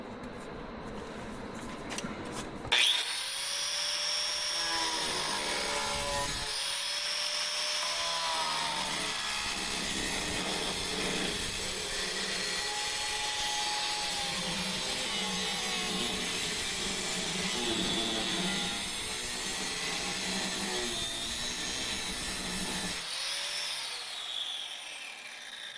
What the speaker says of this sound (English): We're gonna cut here, and then along this pinch weld, like right in the middle.